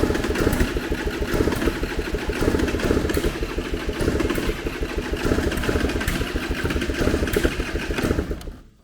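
A vehicle engine cranks over and over without catching, a loud, steady churning clatter that runs unbroken for about nine seconds before cutting off abruptly.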